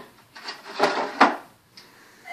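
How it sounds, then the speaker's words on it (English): A wooden drawer in a rattan table slides open or shut, a rough scraping rub in two or three strokes, close and fairly quiet in a still room. "There goes the drawer."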